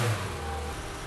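A broken-down car's engine, just repaired at the roadside by breakdown service, turns over and settles into a steady, loud running drone from close by, with no talk.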